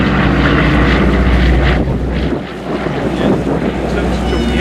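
A Dakota DC3 vintage aircraft passes at the MVT military vehicle rally in Essex, a steady loud piston-engine drone heavily buffeted by outdoor wind noise, holding for several seconds before easing slightly.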